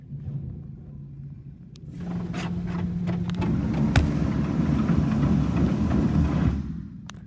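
Istobal MNEX 22 rollover car wash cleaning tires at an Ultramar Choice station in Stouffville, a steady mechanical rumble of motors and spraying water that grows louder partway through, with a few sharp clanks.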